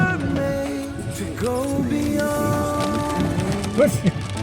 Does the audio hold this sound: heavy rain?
yes